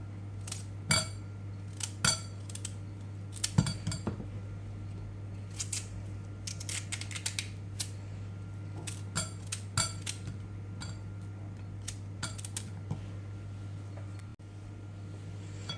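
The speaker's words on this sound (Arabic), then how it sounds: "غادي نقطعها مكعبات على هاد الصلصه ديال المطيشه" Knife cutting sweet potato into cubes on a board for a Moroccan sardine tagine, a run of sharp, irregular chopping clicks and taps spread across the stretch over a steady low hum, fairly close and with no talk.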